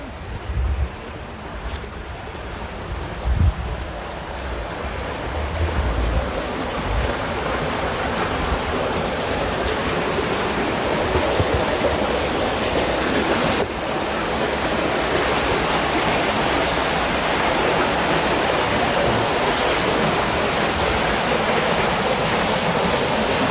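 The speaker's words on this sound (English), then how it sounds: "We finally found our private beach." Waves wash steadily onto a beach at Fort Mifflin, a constant broad roar that swells slightly and carries on without pause, with a few faint bumps early on.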